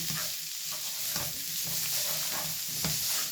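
A spoon stirs garlic powder through a frying bolognese sauce, soft scraping strokes recurring every second or so over a low, steady sizzle, close and fairly quiet with no talking.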